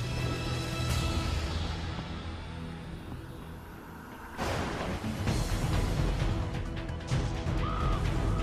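Loud crow caws ring out over a dramatic movie trailer score, several harsh calls close up, followed by a crashing hit and a swelling rumble.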